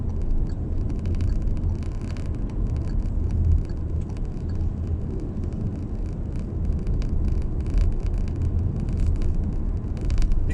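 A 2020 Proton X50 accelerating to 70 on the road, heard from inside as a steady low engine and road rumble with tire hum, continuous and moderately loud.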